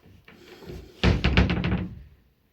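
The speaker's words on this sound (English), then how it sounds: "And there's the door." Hotel room door in a Crowne Plaza opening, a short latch rattle followed by a quick burst of knocking thuds and clatter, close by, then silence.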